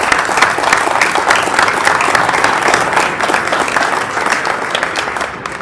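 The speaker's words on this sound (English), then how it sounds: "let's just take a minute and applaud you as an entire group right now." Staff at a junior academic ceremony applaud the students with brisk, distinct clapping that stays lively and then tapers slightly at the close.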